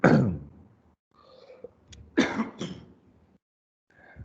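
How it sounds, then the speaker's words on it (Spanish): A person's dry coughing and throat clearing during a cardiovascular physical exam practice session, a sharp loud first cough followed by a few shorter, rougher coughs and a faint final rasp, close to the microphone with quiet gaps between. "a esta hora siempre me da esa tos"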